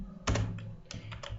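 A few close, quiet keystrokes on a computer keyboard while C/C++ code is typed, including a press of the enter key, heard as a short cluster of crisp clicks and taps in a quiet room.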